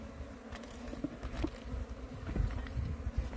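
Honeybees (Apis) buzz in a steady, dense hum as a comb is knocked during a hive capture and rescue, with a few soft taps mixed into the swarm drone.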